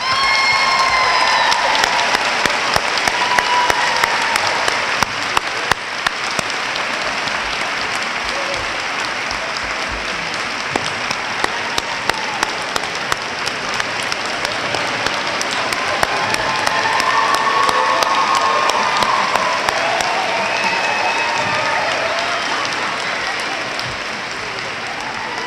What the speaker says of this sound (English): Please help me give these 2018 Health Science and Nursing graduates a round of applause